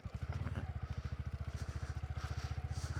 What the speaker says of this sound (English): The bike's going in it sideways.